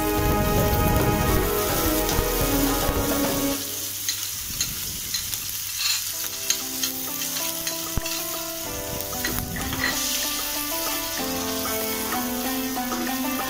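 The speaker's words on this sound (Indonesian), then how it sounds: "Kalau minyaknya udah panas, kita masukkan bawang merah, bawang putih, sama lomboknya yang sudah diiris-iris tadi ke dalam minyak panas." Sliced shallots, garlic and chilies hit hot oil with a loud, crackling sizzle, then settle into steady frying with scattered pops and stirring clatter close to the pan, no voices.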